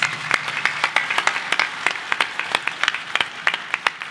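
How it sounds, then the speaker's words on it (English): A leadership dialogue audience breaks into applause, a dense run of crisp hand claps with distinct individual strikes standing out, fairly close and sustained for the whole stretch. "give an applause to the 5 characters"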